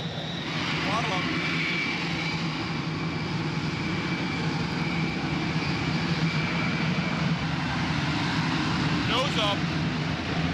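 A fighter jet engine throttles up to 70% in a continuous, loud, steady roar and whine that fills the whole stretch, with a voice talking over it.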